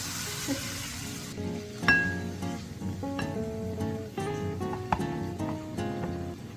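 Food sautéing in a pan with salt and pepper: a steady close sizzle of frying under repeated metallic clinks and scrapes of a utensil stirring against the pan.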